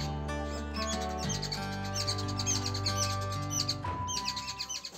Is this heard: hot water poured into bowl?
no